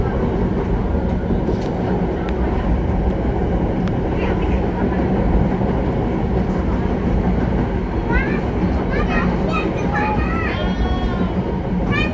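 The Kutojaya Selatan passenger train crosses the Cirahong bridge on the Kutoarjo–Kiaracondong line, making a loud, constant rolling rumble heard from on board, with faint squealing tones rising near the end.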